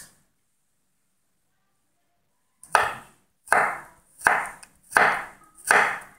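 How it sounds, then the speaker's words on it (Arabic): A knife chops vegetables on a cutting board in a Korean-style kitchen: five crisp, evenly spaced strokes ring out close and loud after a long stretch of silence. "او في بقى ان احنا نقطع الاول ميل كده، بعد ما نميلها نحطهم فوق بعض."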